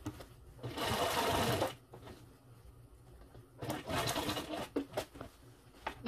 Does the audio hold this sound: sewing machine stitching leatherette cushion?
yes